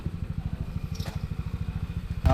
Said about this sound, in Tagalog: Ayan, detesting ni Jack yung motor ni Gabe